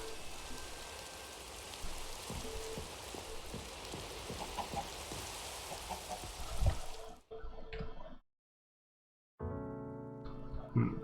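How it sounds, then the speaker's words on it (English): Steady, fairly faint rain patter in a modded Minecraft-style game hisses evenly for about seven seconds, then cuts out abruptly. Brief game sounds follow after a silent gap. "Can I sleep the rain away?"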